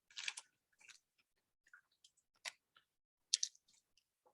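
A crisp, fresh sheet of nori seaweed, folded in half and pinched, snaps and crackles in a few sharp, close bursts separated by quiet gaps, with no talking.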